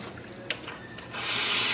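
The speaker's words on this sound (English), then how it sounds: "Flow coming out from the group head," Water flowing from the group head of a La Marzocco Linea Mini espresso machine, a steady rushing stream that swells in over the final half of the short clip, close and alone after a few faint clicks.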